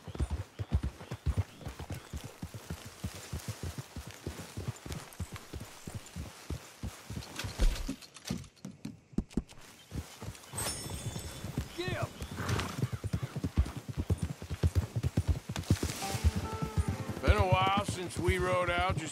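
Horse hooves clip-clop steadily through a ride in Red Dead Redemption 2, with occasional whinnies, and voices talk over the hoofbeats for much of the stretch.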